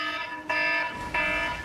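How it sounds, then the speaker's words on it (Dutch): An air raid siren used as an alarm clock sounds as a steady high-pitched wail, moderately faint and rising in two pulses, with no voices over it. "Ja, dat is een luchtalarm."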